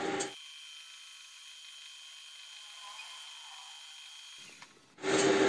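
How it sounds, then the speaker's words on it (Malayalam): A non-woven wheel polishes the steel shaft of an old 40-ton vertical hydraulic jack, giving a steady, close, high-pitched whine that holds for about four seconds before spinning down. "അപ്പോൾ അതുകൊണ്ട് തന്നെയാണ് അങ്ങനെ തിളക്കം കൂട്ടാൻ വേണ്ടി ഈ ഒരു വീല് ഉപയോഗിച്ചിട്ട് ചെയ്യുന്നത്"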